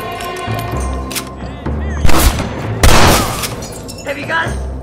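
Gunshots in a gunfight in the video game Red Dead Redemption, a few loud booming blasts and scattered shots, with people talking and shouting throughout.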